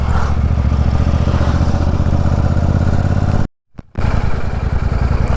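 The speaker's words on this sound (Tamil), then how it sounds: "நம்ம இன்ஜின் மட்டும்தான் ஆனில் இருக்குது" A motorcycle engine idles in neutral with a rapid, even putter, loud and close, briefly cutting out before resuming.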